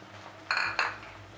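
Stirring chopped onion, green chilli and curry leaves in a pan for an ivy gourd stir fry, two brief metallic clinks of a utensil against the pan over a low background hum.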